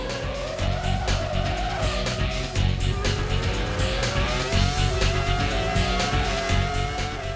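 Formula 1 racing cars from the 2002 season roar at full throttle, a dense, continuous engine howl with rising and shifting pitch as several cars race closely together, loud and near throughout.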